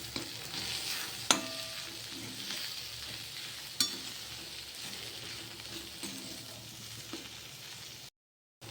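Fenugreek greens with salt and peanut powder stirred in a pan, a soft continuous sizzle with a couple of sharp spoon clinks against the metal.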